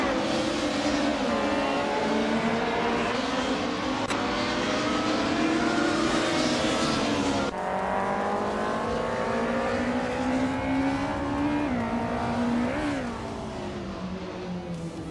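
Mercedes and BMW race cars roar through tight corners and chicanes, engines climbing and dropping through gear shifts with one sharp change midway, loud and continuous, easing slightly near the end; no talk.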